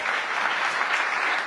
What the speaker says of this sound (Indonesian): Tepuk tangan dong saudara.